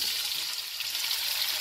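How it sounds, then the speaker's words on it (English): Potatoes and onions frying in bacon grease, a steady bright sizzle with fine crackling that holds evenly throughout, close and moderately loud with no talking. "I'm just gonna give them a quick toss in the grease."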